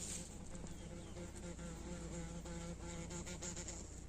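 A large wasp buzzing close by, a steady droning hum that wavers slightly in pitch and holds throughout with no talk.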